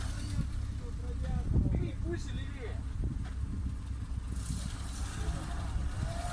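A vehicle revs and pulls away on a forest drive. The engine rumbles loudly and continuously with a surge of throttle, while people shout and talk over it.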